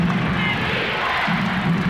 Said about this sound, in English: Chant of defense from the crowd, and the whistle underneath.